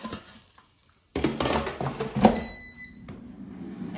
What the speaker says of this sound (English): let's take out the air fryer basket and let's shake zucchini to make sure it cooks evenly